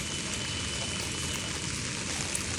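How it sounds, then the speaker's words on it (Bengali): Light drizzle falls steadily on a rooftop garden, a soft, even hiss of fine raindrops that stays at a constant low level throughout, with no voices. "এই বৃষ্টি পড়ছে, ঝিরি ঝিরি বৃষ্টি।"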